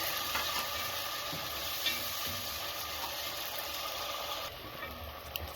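Condensed coconut milk sizzles steadily in a hot pan during home dinner cooking, a continuous close hiss and crackle with no talking.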